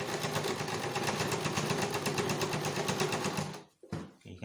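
Sewing machine stitching fabric for a gypsy skirt, a fast steady mechanical whir with rapid regular needle clatter, close up, running continuously before stopping abruptly near the end.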